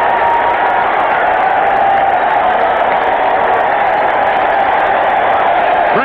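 A large baseball stadium crowd at an Opening Day game between the Baltimore Orioles and Cleveland Indians, a steady roaring cheer that holds loud and unbroken, with a faint whistle near the end.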